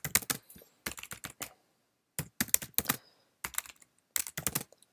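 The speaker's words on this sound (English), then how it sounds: "So I'll type as the comment here" Someone types a commit comment on a computer keyboard in quick bursts of clicky keystrokes separated by short pauses, close and clear, with no talking.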